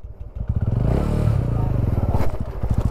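A motorcycle engine idles and chugs with a rapid, throbbing low pulse as the rider lets out the clutch, close and fairly loud with some clatter mixed in.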